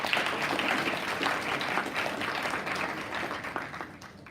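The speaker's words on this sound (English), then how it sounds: "Join me giving her another round of applause" An audience claps in sustained applause, a dense crackle of many hands that gradually fades toward the end.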